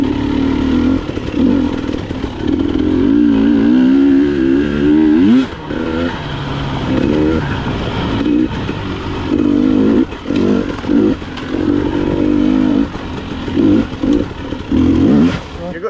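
An enduro motorcycle on a forest trail at Pachaug State Forest, its engine revving hard and close with repeated throttle blips, surges and drops, plus occasional clattering over rough ground.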